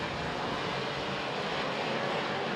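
A 125cc OK-class racing kart engine screams at very high revs during a WSK Champions Cup prefinal at South Garda Karting, Lonato, a steady dense whine holding loud and unbroken with no voices.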